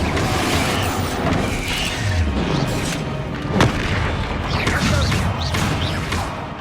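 Spell blasts from Confringo cast in Hogwarts Legacy, a steady barrage of booming impacts and crackling bursts layered over busy combat noise, loud and continuous with one sharper crack standing out midway.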